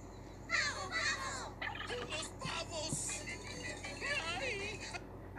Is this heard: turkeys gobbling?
yes